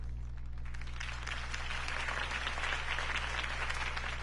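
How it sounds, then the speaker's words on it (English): Crowd applause following a campaign speech in Batman: The Telltale Series, a broad wash of many clapping hands rising out of quiet over a low steady hum, moderately distant and with no talk on top. "could have heard that applause"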